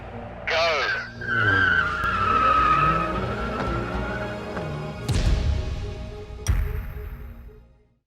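Mercedes-AMG A45 S and Toyota Supra launch side by side in a drag race, engines roaring up loudly with a rising whine and tyre noise, followed by two sharp bursts near the end; a voice counts down over the start.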